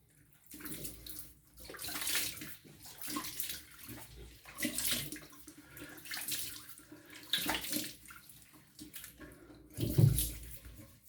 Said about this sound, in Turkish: Yüzümüzü ılık suyla biraz yumuşatalım.